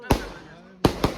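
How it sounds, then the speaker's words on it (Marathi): Firecrackers at a Sai Baba palanquin procession, several sharp close bangs in quick succession, one then a pause and then a fast triple burst, loud above the background. "ताजे फटाके वाजत आहेत"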